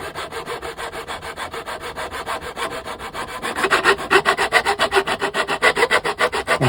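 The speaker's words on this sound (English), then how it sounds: "For some reason this saw blade seems to not be cutting very well." A hand saw cutting wood trim on a 1:84 Artesania Latina Santisima Trinidad model ship, a close, steady rasping of even back-and-forth strokes that grows louder partway through.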